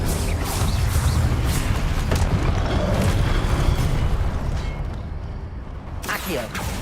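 An Incendio fire spell is cast in Hogwarts Legacy, a rumbling fiery burst over busy game sound that fades midway before a sharp flare near the end, with a voice speaking at points.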